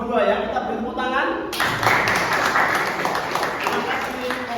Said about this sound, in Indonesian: Nomor 2 ya, kita beri tepuk tangan